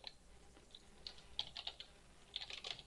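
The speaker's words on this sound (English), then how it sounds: "Sorry for my horrible typing again." Quick, light keystrokes on a computer keyboard come in short irregular bursts, close and fairly quiet, with no one speaking.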